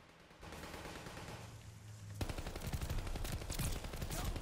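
An M1928 Tommy gun fires in Call of Duty Vanguard, a rapid, dense burst of automatic shots that starts partway through and keeps hammering steadily to the end, loud over a low game background hum.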